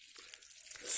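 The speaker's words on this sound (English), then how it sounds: "there we can see water's coming out." Water gravity-feeding out of a pump hose lowered below the water line, a close, steady hissing splash that swells louder toward the end.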